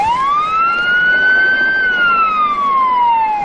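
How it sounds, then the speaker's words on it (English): A loud wailing ambulance siren sweeps slowly up and then back down in pitch, close by and continuous, with traffic rumble underneath, heading to Ramsey Medical Center in the Twin Cities. "The ambulance with Officer Tim Jones inside sped to Ramsey Medical Center"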